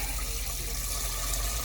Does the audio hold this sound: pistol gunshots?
no